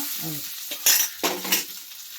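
Akki shavige rice noodles being mixed in a pan, a few short scraping and stirring strokes of a utensil with light clinks against the pan, close and fairly soft.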